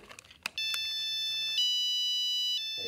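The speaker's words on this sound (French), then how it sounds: "Ce projet de montre est doté d'une alarme sonore" A few short beeps, then a loud, steady electronic alarm tone from a wearable anti-assault watch rings continuously, shifting pitch once and holding for about two seconds.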